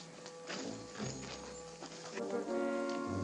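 Horses led out of a barn, their hooves clopping steadily on the ground beneath a continuous orchestral music score, moderately close and without clear speech.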